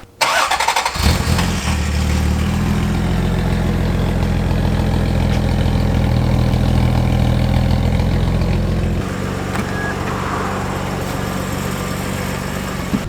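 A Toyota Supra's engine turns over and settles into a loud, steady idle close by, a deep rumble that holds for several seconds before easing down slightly toward the end.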